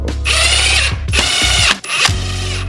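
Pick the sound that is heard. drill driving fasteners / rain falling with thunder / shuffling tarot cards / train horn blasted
drill driving fasteners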